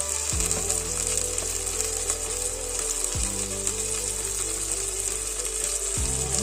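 Ginger-garlic paste sizzles steadily in a hot pan while bottle gourd and chana dal curry cooks, a continuous close frying hiss with a low mechanical hum and occasional faint clicks underneath.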